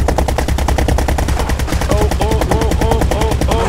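Plane cannons in Brick Rigs fire in a fast continuous stream of loud, close, evenly spaced bangs throughout, heavy and relentless with no pause.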